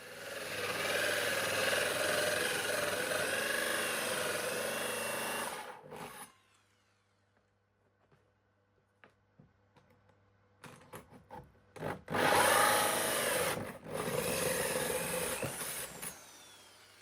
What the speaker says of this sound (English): drill a hole for the wires to run through for the consumer unit